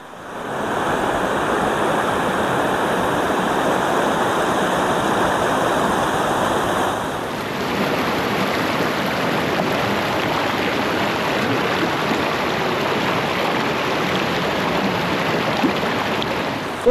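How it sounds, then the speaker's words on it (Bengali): The Chhota Rangeet river near Darjeeling rushing past nearby, a loud, continuous broadband roar of flowing water with no voices, holding steady throughout. "এখন এদিকে বয়ে চলেছে ছোট রঙ্গিত নদী"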